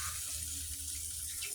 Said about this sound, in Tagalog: Lagyan natin ng isang mangkok ng tubig.